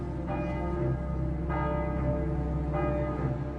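Church bells of Saint-Germain-l'Auxerrois in Paris ring out in repeated tolling strikes about every 1.2 seconds, their long humming overtones sustaining and overlapping between strikes, fairly distant and resonant, with no talking.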